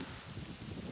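Outdoors on a roe deer hunt, wind buffets the microphone with a low, rumbling, continuous roar. It stays steady and fairly quiet, with no other clear sounds over the short span.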